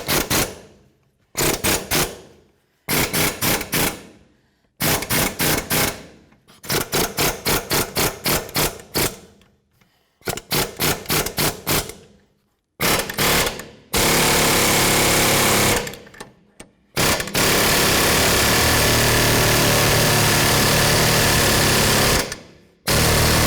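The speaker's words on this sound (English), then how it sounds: "we're going to be using a hammer and we're going to hit right here on the lower ball" Rapid metallic hammer blows strike the lower ball joint of a 2007-14 Cadillac Escalade to break it free, coming in loud close bursts of quick repeated hits separated by pauses, with a longer continuous rattling stretch later.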